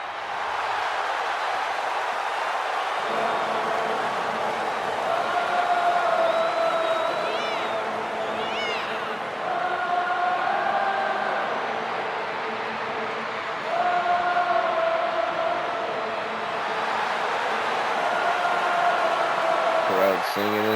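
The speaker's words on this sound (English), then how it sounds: "Crowd singing this song." A WWE 2K25 video game arena crowd sings a chant in unison before a WrestleMania match, a loud, sustained mass of voices rising and falling in repeated phrases, with a commentator talking over it.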